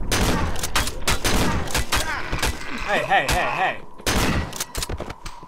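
Gunfire in the horror game Cry of Fear crackles in sharp, loud bursts of rapid shots with short pauses between, mixed with screeching creature cries and a brief word from a man.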